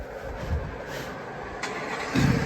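A car engine cranks and turns over in a brief, fairly quiet burst, then settles into a low rumble, with no talking.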